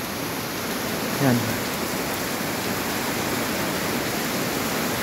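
Heavy rain pours steadily during a flood in Quezon City, a constant loud hiss of water on surfaces, with a brief voice speaking over it near the start.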